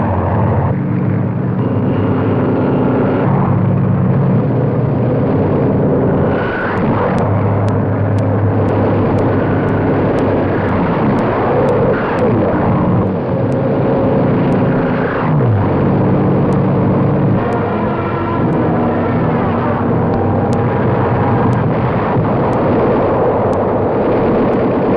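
Allied invasion aircraft over Normandy in 1944, a steady, loud, dense roar of many engines droning continuously throughout, with rumbling low end and the crackly, band-limited character of an old newsreel soundtrack.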